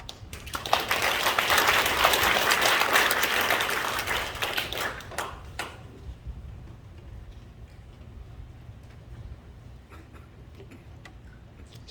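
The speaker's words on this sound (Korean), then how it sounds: "여러분 다시 한번 큰 박수로 축복해 주시기 바랍니다" Church congregation applauding at an anniversary ordination service, a loud sustained round of clapping for several seconds that fades into quiet room tone.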